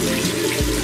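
Water runs steadily from a tap or shower while hair is being wetted, a close and loud rushing hiss for under a second, with a brief shift in the flow near the end.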